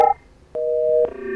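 A telephone busy signal sounds after a call cuts off: short, loud, steady electronic tones, one after another with brief gaps, heard with no voices.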